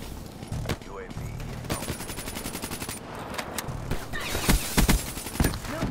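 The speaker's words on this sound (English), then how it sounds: "that shotgun's not taking me down" Rapid gunfire from Call of Duty: Black Ops III in an Uplink multiplayer match, with bursts of automatic fire and sharp single shots crackling in quick succession, loud and dense, with a few mechanical clicks between volleys.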